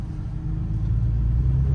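A turbocharged car engine settles as the gas pedal is let off, a steady low rumble that swells slightly, close and continuous with no voices.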